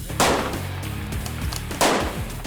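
Two loud, sharp rifle gunshots at a vintage sniper match, each with a booming report and rolling echo, about a second and a half apart.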